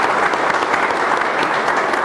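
Audience applause for the professor at an international public law conference on maritime domain in Lima, a dense steady roar of many hands clapping, loud and close, without talk.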